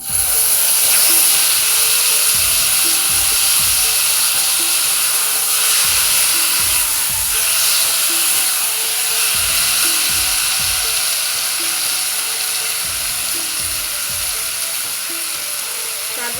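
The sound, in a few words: taro greens added to hot oil and frying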